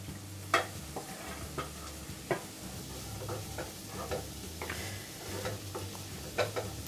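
Beans, carrot and cabbage stir-fried in a pan for Schezwan egg fried rice: a steady low sizzle with scattered sharp scrapes and clicks of a spatula stirring the vegetables, close and moderately loud, no voices.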